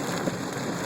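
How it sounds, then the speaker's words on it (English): Steady rain drums on a car during a flash flood while driving on Brush Hollow Road in Westbury, a dense continuous wash of drops with no voices. "It's not raining as hard now, but it's still raining."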